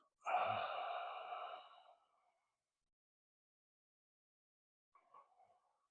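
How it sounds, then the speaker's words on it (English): One long, audible breath out through the mouth comes close and alone, followed after a few seconds of silence by a faint, short breath. "Inhale through the nose. Exhale through the mouth."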